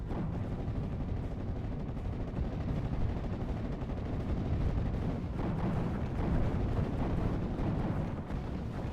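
Mortar and gunfire in the World War II strategy game Steel Division 44, with 6th Airborne facing 352 Infanterie: a dense, continuous low rumble of distant explosions and shots at steady loudness, no voices.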